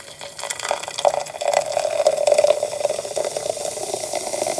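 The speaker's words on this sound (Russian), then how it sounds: "теперь все это дело я буду заливать горячей-горячей водой. Значит, я сначала начну с чайника." Hot water pours from a kettle in a steady, splashing stream, loud and close, continuing for several seconds.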